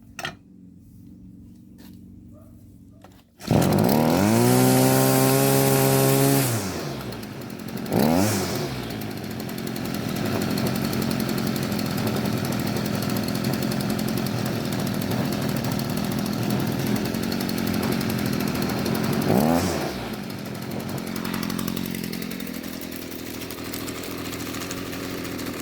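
A Stihl FS45 string trimmer with a starting fault catches after a quiet lead-in and roars up to a high rev. It then settles into a steady, close running drone, with brief throttle blips partway through.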